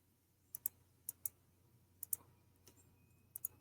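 Sparse, light clicks from an on-screen spinning word wheel in small clusters, a few ticks at a time with short gaps, quiet and close against a low steady hum.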